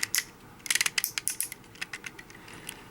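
Takara Tomy Transformers MP-27 Ironhide toy's tight upper bicep swivel joint clicks and ratchets in a quick irregular series of small, sharp plastic pops, close and quiet.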